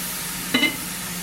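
Venison sizzling in a smoking-hot cast iron pan, an even close hiss throughout with a brief higher chirp near the middle.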